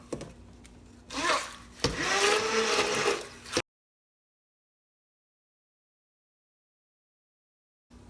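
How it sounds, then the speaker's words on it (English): A short burst of an immersion blender whirring and churning through melon and cold water for about two seconds, then silence. "We're going to use the immersion blender."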